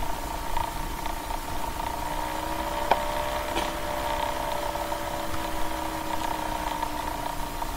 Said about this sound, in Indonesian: proses pemekatan ekstrak cair dilakukan menggunakan bantuan alat vakum rotary evaporator.